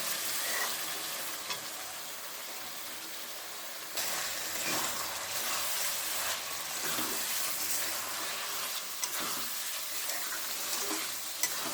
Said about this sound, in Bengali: আর এদিকে এই যে মশলাটা কষাই হচ্ছে